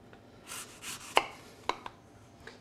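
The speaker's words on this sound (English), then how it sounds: "I'm going to put a little bit of Granny Smith apple in there. Just going to slice it nice and thin." Granny Smith apple being sliced thin with a knife on a board, giving a few sharp, crisp cuts: two soft strokes followed by three distinct clicks against the board, close and fairly quiet with no talk.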